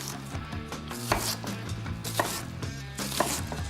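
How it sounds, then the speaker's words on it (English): A knife blade cuts down through an onion toward the root on a board, with a few distinct sharp chops spaced about a second apart over steady background music, close and fairly loud. "With the weight of the blade to cut through that onion to get to the base of the root"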